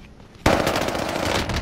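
A sudden burst of automatic MP40 fire rings out in a Free Fire–style shooter match, rapid loud shots starting abruptly after a brief quiet moment and continuing to the end.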